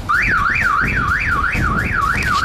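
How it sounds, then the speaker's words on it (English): Car alarm of a 2002 Ford Crown Victoria LX, a loud close-up siren sweeping rapidly up and down in pitch, repeating in a steady rising-and-falling cycle with no talk. "As you can see, it does have a car alarm."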